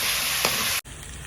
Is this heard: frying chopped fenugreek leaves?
yes